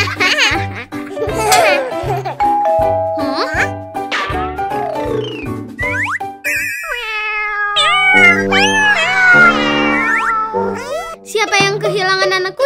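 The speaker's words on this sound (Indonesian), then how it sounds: "Siapa yang kehilangan anak kucing?" A kitten meows repeatedly in high, wavering cries, near and loud, mixed with cartoonish music and a voice talking between the calls.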